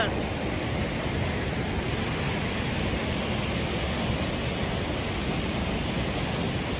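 Steady, full roar of the Duwili Ella waterfall in Sri Lanka, fed by the Walawe river, heard as dense unbroken rushing water with no distinct breaks, loud and close throughout.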